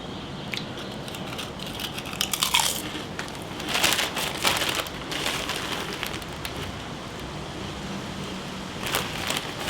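Crunchy ridged cheese and onion potato crisps being chewed up close, a series of dry crackling crunches and bites coming in bursts over a steady noisy background, with no talking.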